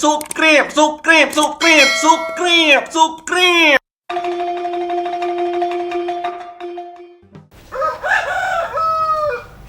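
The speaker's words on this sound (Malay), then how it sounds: "Apa pula ayam tu? Siang-siang berkokok." A rooster crows repeatedly, loud and close, with a series of stuttering crows followed by a long sustained call, then another crow near the end.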